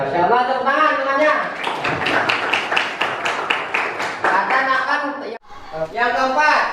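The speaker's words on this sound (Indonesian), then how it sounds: "Ya, insyaallah tepuk tangan semuanya." Classroom students clap together in a quick, rhythmic burst of roughly a dozen claps during an Islamic studies lesson on the Qur'an, heard between a teacher's spoken lines before and after.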